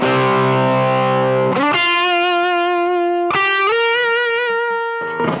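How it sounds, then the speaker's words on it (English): Electric guitar through a Dumble-style amp with the overdrive and preamp boost engaged rings out in three loud, sustained distorted chords, each held for a second or two before the next is struck, with no voices. "The sound I didn't really talk about today was the overdrive and the preamp boost."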